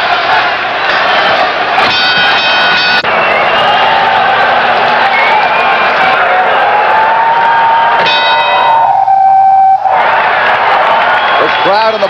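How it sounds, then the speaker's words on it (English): A boxing crowd at the Boston Garden roars during Marvin Hagler's fight with Willy Warren, a steady, dense wall of cheering and shouting that holds loud throughout, with a commentator talking over it. "Crowd in the Boston Garden has come to cheer Marvin Hagler"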